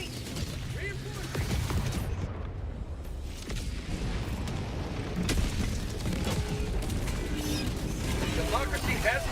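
Bug tunnel breach erupting in the video game Helldivers 2 on top difficulty: a dense, continuous roar of booms, crashes and mechanical rumble with scattered explosive hits, loud throughout, with a voice talking over it.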